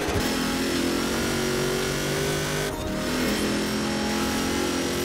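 A Jeep CJ5 Renegade with a 7-litre V8 of over 1300 horsepower, in the Forza Horizon 4 racing game, roars loudly at full throttle in a steady, continuous drone with a brief dip partway through.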